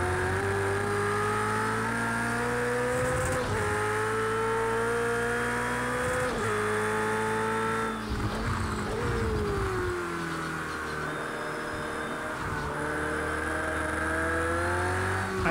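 Race car engines in the video game Project CARS 2 roar continuously at high revs, with several cars sweeping past beyond a tire wall one after another and pitches shifting as they go by.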